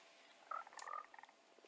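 A couple of frogs croak in a mangrove area of Minecraft, giving soft, quick clustered croaks and ribbits, faint and close, with no talk over them.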